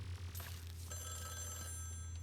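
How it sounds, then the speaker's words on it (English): A telephone rings in the Luigi's Mansion 3 video game with a faint, steady electronic bell tone held for over a second above a low background hum. "let's see what happens when we answer the phone here"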